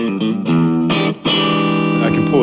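Loud distorted electric guitar playing a few sustained notes and chords, thick and saturated, alone without talk.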